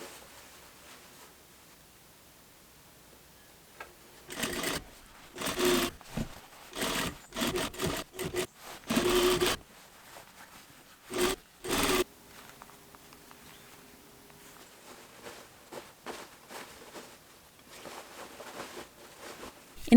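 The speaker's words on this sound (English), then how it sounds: "apply the lining to the shell along the zipper, using a zipper foot to get close to the teeth." A sewing machine fitted with a zipper foot stitches a dress lining along a zipper in short, close bursts of running, separated by quiet pauses and light fabric handling.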